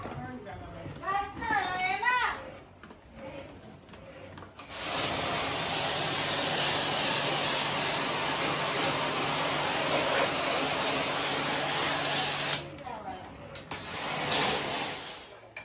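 A loud, steady hiss of water spraying while washing an air conditioner runs for about eight seconds, with someone talking briefly before it starts and again after it stops.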